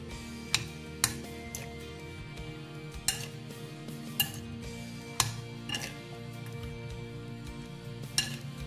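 Cucumber salad being tossed with dressing in a bowl, with scattered sharp clinks of utensils against the dish at irregular intervals over a steady low background hum, close and fairly quiet.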